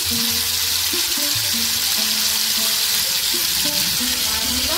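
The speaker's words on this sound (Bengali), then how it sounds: "এবার একটু নাড়াতে হবে যতক্ষণ জলটা থাকবে। জলটাকে পুরো মেরে নিতে হবে।" Tamarind rice stirred in a sizzling pan as its water cooks off: constant loud frying hiss with soft scraping stir strokes and some faint tonal hum underneath, close and continuous with no talk.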